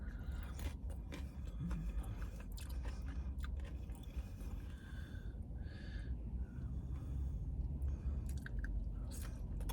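Crunchy Jack in the Box loaded mini tacos with nacho cheese being chewed up close, steady wet crunching and munching for several seconds without talk.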